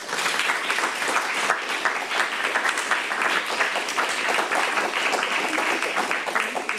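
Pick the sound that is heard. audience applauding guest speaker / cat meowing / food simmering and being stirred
audience applauding guest speaker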